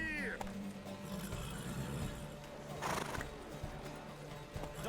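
Horses in a race in the video game The Witcher 3: a loud whinny up front, then rapid clip-clop hoofbeats galloping on, with another neigh midway, all fairly near.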